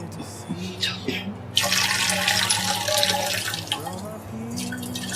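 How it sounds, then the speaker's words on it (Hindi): Excess soaking water is poured off cumin seeds, a close splashing gush that starts abruptly partway through and keeps pouring, with someone talking before and over it. "ये पानी मैंने फेंका क्योंकि पानी ज़्यादा था।"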